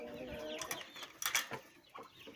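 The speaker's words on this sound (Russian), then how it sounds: "Вот у нас теперь вот здесь вот сидит петух Легорн." A Leghorn rooster sitting in a shared backyard coop gives a few quiet, broken clucks at close range, with faint scratchy rustling between them and no talking.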